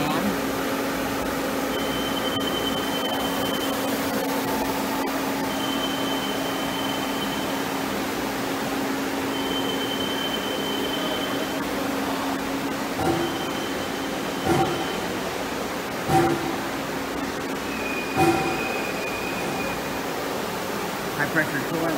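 A 2010 Citizen L20E CNC lathe runs with a steady mechanical drone and whining tones, punctuated near the end by a few short clunks and bursts, while a person talks over the machine.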